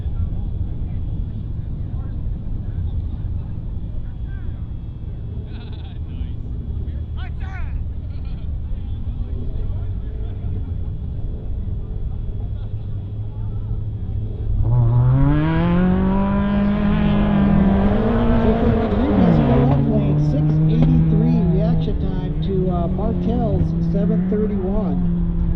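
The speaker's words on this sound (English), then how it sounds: "Sit there in that STU Evo for 2 seconds while that Mazda 2 took off from the line" A drag race start between a street-tired Mazda 2 and a Mitsubishi Evo. A low engine drone under an announcer's talk gives way to a loud rising engine howl as one car launches and climbs through the revs.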